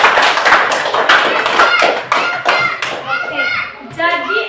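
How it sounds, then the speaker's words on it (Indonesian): Children in a classroom clapping for a classmate, a burst of quick, loud, close claps mixed with children's voices, tapering into chatter and giggles toward the end. "Kasih tepuk tangan untuk Seto"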